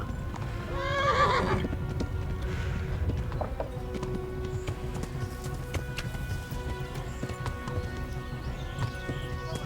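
A horse in the medieval video game Kingdom Come: Deliverance gallops with steady rhythmic clip-clop hoofbeats, opening with a loud whinny, close and continuous throughout.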